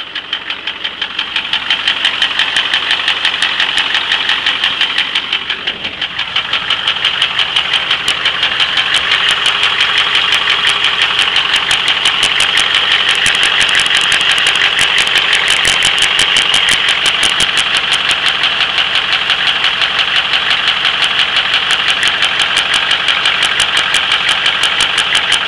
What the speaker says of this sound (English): You can hear the tick still, but the harmonic balancer is shaking.